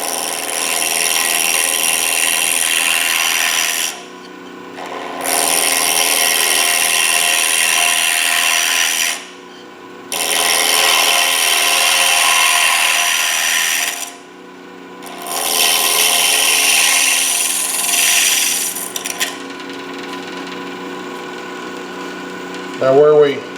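Wood lathe turning an acrylic pen blank, a steady whirring scrape in four long passes separated by short pauses, close and fairly loud with no talking.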